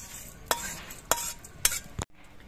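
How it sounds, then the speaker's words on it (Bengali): A spoon scrapes fried spice mix out of a pan into a bowl, giving three quick metallic knocks and scrapes at even intervals and a final clack, over a soft background hiss. "মশলা ভাজা হয়ে গেছে, আমি একটা বাটির মধ্যে নামিয়ে রাখছি।"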